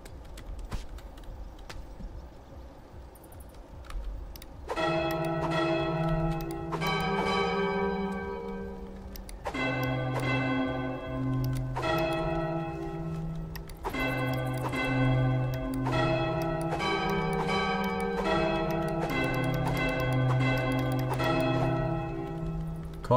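Church-like bells ring out in the Goat Simulator 3 video game, a loud sequence of repeated tolls in clustered bursts with long ringing tones that keep sounding for about eighteen seconds after a quiet start.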